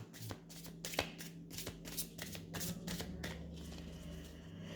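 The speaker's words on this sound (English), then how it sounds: "So I'm going to clear the cards." Tarot cards shuffled by hand nearby, a quick series of soft riffling slaps and flutters in a quiet room.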